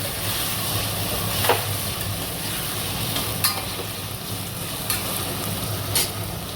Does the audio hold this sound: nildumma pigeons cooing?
no